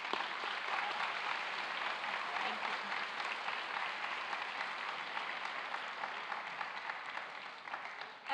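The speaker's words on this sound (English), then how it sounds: "this is applause of gratitude from new UMR alumni" Sustained applause from new graduates at a university commencement ceremony, a steady dense wash of many hands clapping at moderate distance, continuing evenly for several seconds without talk.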